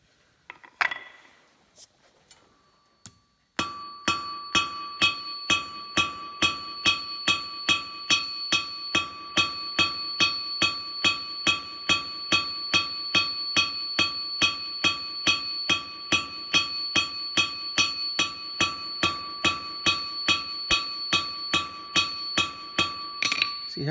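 A cross peen hammer strikes hot steel on an anvil while a ginkgo leaf is hand forged, starting with a few scattered blows and then settling into a long, fast, even run of loud ringing metallic hits.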